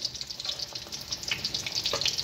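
Fish frying in oil over a low flame, a steady soft sizzle and crackle that carries on without a break, close and moderately loud, with no talking.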